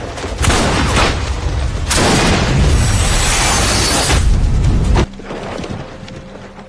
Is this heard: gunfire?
yes